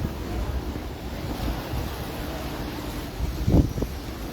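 Heavy ocean surf rolling in at Ala Moana Beach in Honolulu, Hawaii, a steady broadband wash with wind noise, swelling into a louder breaking wave near the end, with no voices.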